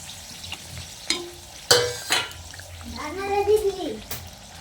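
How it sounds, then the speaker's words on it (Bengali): Hing kachuri, puffed lentil-filled breads seasoned with asafoetida, crackle in hot oil under a low frying hiss, with a few sharp pops and splashes and some voice-like sounds mixed in. "আরও কয়েকটা কচুরি আপনাদের ভেজে দেখাচ্ছি।"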